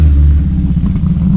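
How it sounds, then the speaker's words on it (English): Ford Mark 1 Escort 1600 rally car at the stage finish control of a gravel rally, a loud, close, rumbling engine with a low, throbbing idle over a brief stretch. "Mark 1 Escort 1600."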